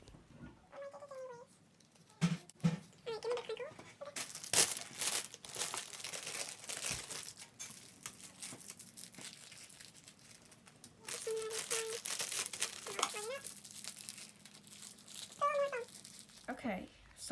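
Plastic bags from newspapers are stuffed into a homemade foam squishy, giving soft intermittent crinkling and rustling, close by, with a speaking voice and a few cat-like sounds in between.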